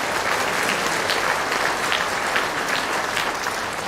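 Steady, even applause for elementary school award winners from a gathered audience, a continuous wash of many hands clapping at moderate volume throughout.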